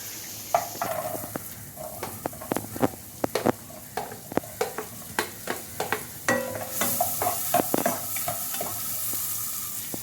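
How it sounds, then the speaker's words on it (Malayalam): Butter sizzles in a hot pan while being cooked for chicken pasta, a steady close frying hiss broken by repeated clicks and scrapes of a utensil stirring against the pan. "പാൻ ചൂടായി നമുക്ക് ബട്ടർ ഇട്ട് കൊടുക്കാം കേട്ടോ."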